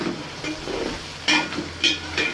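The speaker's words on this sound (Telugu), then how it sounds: "ఒక 4 మీడియం సైజు ఉల్లిపాయలు, ఒక 6 పచ్చిమిరపకాయలు వేసుకొని మంచిగా దోరగా బ్రౌన్ కలర్ వచ్చేలాగా వేసుకోవాలి." Chopped onions and green chillies fry in a hot pan, a steady sizzle with a few louder bursts as they are stirred, close and alone with no voices.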